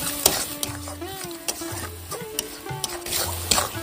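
Salt is stirred into frying masala for a Bengali prawn malai curry. Repeated spoon strokes scrape and clink against the pan over a light sizzle, and a low background hum pulses intermittently.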